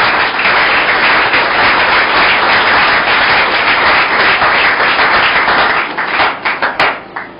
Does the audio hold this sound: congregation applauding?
yes